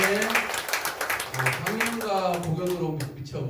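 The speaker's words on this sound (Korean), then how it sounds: "멋진 연주 들려주신 와이즈님 그리고 배우님들에게 큰 박수 부탁드립니다" An audience claps for musicians and actors after a literary-cafe theatre performance. The applause is a scattered patter running beneath a clearly dominant speaking voice.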